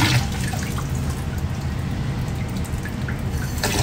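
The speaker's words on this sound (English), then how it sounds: "So again, rinse these out." Hair extensions rinsed under a running tap, a steady splashing, dripping wash of water heard close and continuous with no talk.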